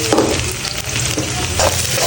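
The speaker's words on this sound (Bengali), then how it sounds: "পেঁয়াজটা একটু ভাজা ভাজা করে নিচ্ছি।" Onion fries in hot mustard oil in a pan, a dense, continuous close sizzle with occasional stirring scrapes, loud and steady throughout with no voices.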